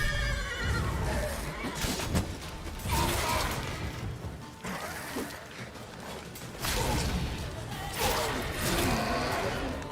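Roach, a horse in The Witcher 3, neighs amid clattering game mechanisms and creaks, with loud, busy bursts of sound throughout.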